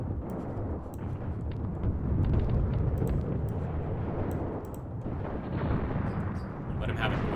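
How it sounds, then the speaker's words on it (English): Enemy machine gun fire rattles off in the distance during a Graviteam Tactics battle, a dense low rumble of bursts and crackling impacts mixed with battlefield noise, with scattered sharper pops. "getting hit really badly by that enemy machine gun fire off in the distance"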